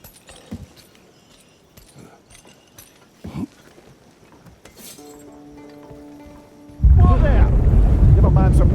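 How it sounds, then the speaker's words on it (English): In God of War Ragnarok, a loud, deep earthquake rumble bursts in and roars steadily after a quieter stretch of scattered taps and a faint hum. "Was that an earthquake?"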